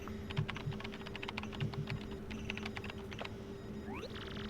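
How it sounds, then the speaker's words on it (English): Quick keyboard typing on a communicator in the Paper Mario: The Thousand-Year Door video game, a rapid run of light clicks and taps over a soft background tone, with no voices. "Nice keyboard sounds."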